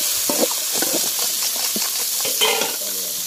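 Chopped tomatoes land among golden fried onions in a pan for a chicken gizzard fry, giving a close, continuous sizzle broken by repeated scraping and stirring strokes, with no talking.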